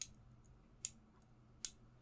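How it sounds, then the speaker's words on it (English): Small scissors on a Swiss Army knife are opened, giving three crisp, faint clicks spaced roughly evenly apart in a quiet room. "sounds of him opening the little scissors as he's just nervously talking and rocking back and forth."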